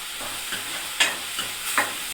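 Ginger garlic paste fries in a pan for biryani, a soft, low sizzle with a few scraping strokes of a spoon stirring it, quiet and brief.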